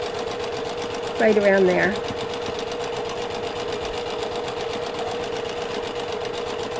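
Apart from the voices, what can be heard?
sewing machine stitching around a fabric pocket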